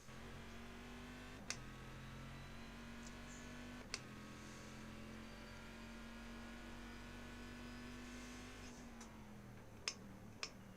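A race car engine in the iRacing sim drones steadily and close at a near-constant pitch, with slight shifts in tone and a few sharp ticks scattered through, no talk over it.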